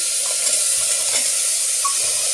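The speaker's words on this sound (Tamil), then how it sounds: "டபுள் பீன்ஸை சேர்த்துருக்கேன் இது ஒரு நூற்றி ஐம்பது கிராம் இருக்கும் உள்ளே சேர்த்துடலாம்" Soaked double beans go into a hot pan for a gravy and sizzle loudly, a dense, steady bright hiss filling the whole moment with no talking.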